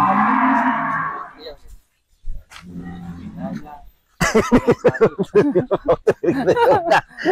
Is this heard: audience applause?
no